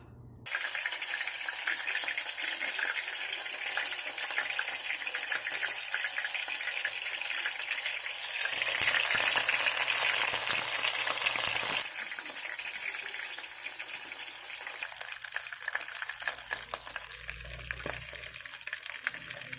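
Breaded calamares frying in hot oil, a steady bright sizzle that swells louder midway as more pieces hit the oil, then settles back into a gentler crackle with occasional clinks.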